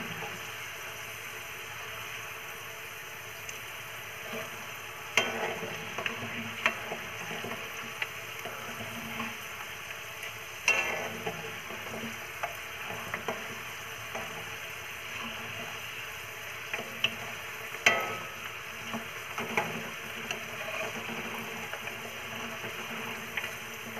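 Tomato chutney going into a pan of golden fried garlic, a low steady sizzle with scattered scraping and stirring knocks against the pan, moderately close and without talk.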